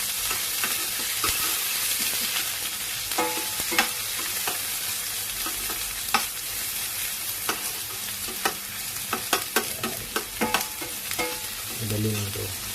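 Ingredients sauté in a pan with a steady sizzle, repeatedly broken by sharp scrapes and clinks of a utensil tossing them, close and lively, with no voices.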